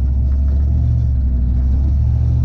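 A 1947 Ford fitted with a Toyota 1UZ VVTi V8 gives off a deep, loud, steady engine rumble up close, holding an even low drone without obvious revving peaks.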